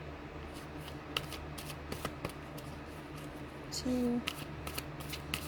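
Tarot cards being shuffled by hand: soft riffling and flicking bursts close by, interspersed with single card snaps, while a voice speaks briefly over them.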